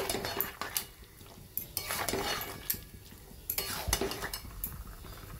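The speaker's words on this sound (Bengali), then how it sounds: "তবে ভালো করে মিশিয়ে নেব। এঁচড় দিয়ে ভালো করে মশলার সঙ্গে মিশিয়ে নিয়েছি।" A utensil scrapes and clinks against a pan while young jackfruit is stirred into a spice mixture, steady irregular scraping with occasional sharper clinks, close but fairly quiet.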